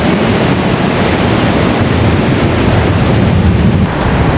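A cool ocean breeze at Moonstone Beach in Cambria, California, roars across the microphone in loud, constant buffeting gusts, blending with the wash of surf along the coast.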